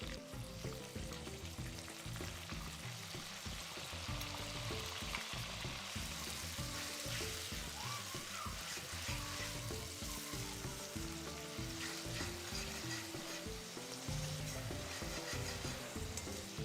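Ground onion paste fries in a pan and is stirred, a steady soft sizzle with scraping strokes running the whole time beneath quiet background music.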